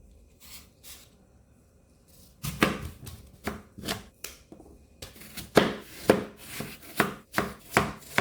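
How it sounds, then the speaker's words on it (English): Apples being peeled and then cut into cubes with a knife, a few soft strokes followed by a steady run of close, crisp chops on a board. "We're first gonna peel and cut the apples into like cubes or pieces."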